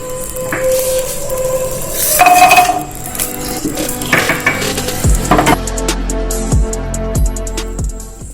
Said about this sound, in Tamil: வத்தல் நல்லா வறுப்பட்டுட்டு இன்னும் அதுல பூண்டை ஆட் பண்ணி லேசா வறுக்க போறோம்.